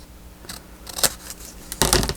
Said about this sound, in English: get your handy dandy scissors